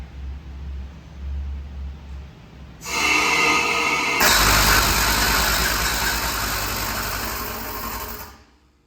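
A pressure relief valve chatters unstably once a dead-leg section of non-flowing pipe is opened. A harsh, rapid mechanical rattle bursts in suddenly, grows louder and denser a moment later, then stops.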